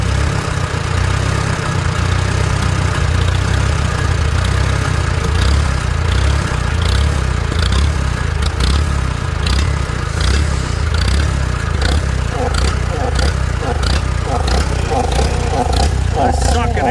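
Small engine fitted with a cheap Chinese carburetor running rich and surging, a loud continuous rough drone with rising and falling rhythm, near and steady for the whole stretch.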